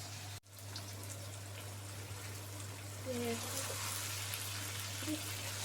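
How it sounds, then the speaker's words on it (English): Steady, close sizzling of chicken frying with onions in a pan, a constant crackling hiss with a low hum underneath and a brief click near the start. "I've been frying this chicken in the onions"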